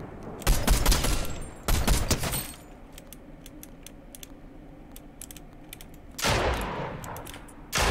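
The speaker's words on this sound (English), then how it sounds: "I'm just shooting him with my AR" Assault rifle fire in an online shooter game comes in a few loud bursts of rapid, crackling shots, separated by quieter gaps filled with a steady run of sharp clicks. No one talks.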